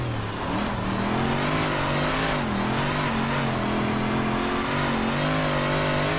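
Torquey dirt race car motor in iRacing on the Husets dirt track, roaring loud and close with a steady, wavering pitch as the throttle is held and modulated through the corners.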